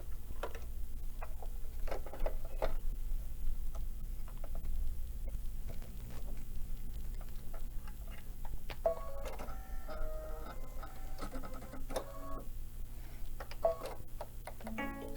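A sewing machine stitches fabric with Wonderfil thread, giving a steady mechanical ticking and clatter that runs throughout, with a few brief higher whirring tones toward the end.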